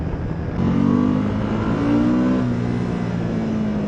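Suzuki V-Strom 1050 XT motorcycle engine held high in the revs while riding, a loud, steady droning roar with a surge in pitch around the first second and rising harmonics, no talking.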